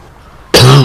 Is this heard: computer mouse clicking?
no